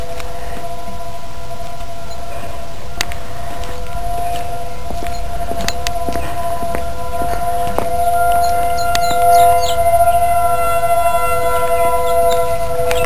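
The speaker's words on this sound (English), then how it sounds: "I have no idea why they're blowing off the sirens" Tornado warning sirens in Hutchinson, Minnesota hold a loud, steady wailing tone throughout, with faint knocks and distant outdoor sounds beneath and no speech.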